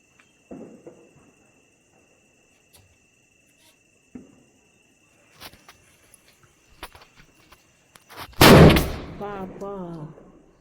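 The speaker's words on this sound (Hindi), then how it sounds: "पापा तो मैंने बुढ़ दिवाली वाले पटाखे भी फोड़ दिए हैं।" Firecrackers for Budhi Diwali pop in scattered, sharp bursts at varying distances over a quiet night with crickets chirping, ending in one loud close blast followed by a brief voice.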